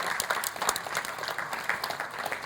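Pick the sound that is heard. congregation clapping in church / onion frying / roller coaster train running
congregation clapping in church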